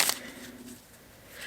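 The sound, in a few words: shuffling a deck of cards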